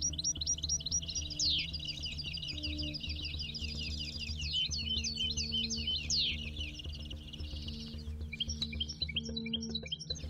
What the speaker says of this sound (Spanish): Ahí viene un verdón macho, está dando la vuelta